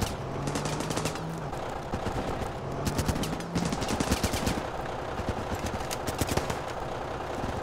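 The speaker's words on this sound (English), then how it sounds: "I need to load up a heavy machine gun." A heavy machine gun in the video game Running With Rifles fires sustained rapid automatic bursts, loud and close, with a dense clatter of overlapping shots running almost the whole way through.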